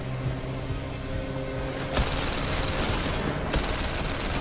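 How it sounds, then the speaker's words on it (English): Rapid gunshots fired at a car's tires in The London Heist VR game ring out as a dense, loud volley over steady vehicle rumble, with a sharp burst around the middle; no talk. "I can shoot it in the tires."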